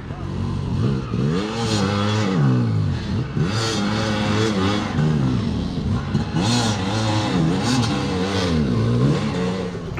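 A blown-up Yamaha YZ125 two-stroke dirt bike engine, running too rich and refusing to rev out, revs repeatedly in rising and falling waves, close and loud, with a voice talking over it.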